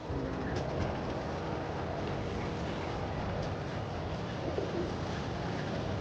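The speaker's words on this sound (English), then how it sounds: "I'm gonna miss chasing you birds all over New York." Pigeons coo softly in a New York city setting in the Spider-Man 2 video game, the calls sitting under a dense, steady wash of urban ambience.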